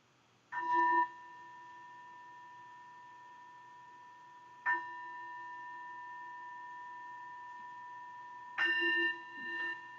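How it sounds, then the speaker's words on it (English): A mindfulness bell struck three times at slow, even intervals, each bright clear strike followed by a long pure sustained ring that fades gently, heard alone in a quiet room. "The sound of the bell calls me back to my true home."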